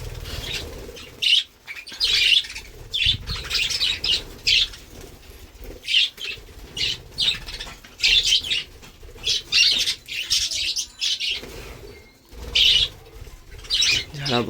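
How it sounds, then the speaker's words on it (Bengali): A flock of birds, pigeons among them, comes down to eat scattered grain: repeated bursts of wing flapping, some loud and close, come in irregular clusters, with faint coos and chirps in between and no talking. "কিছু কিছু পাখি চলে আসবে, দেখতে পাচ্ছেন, তাও সবাই চলে আসবে"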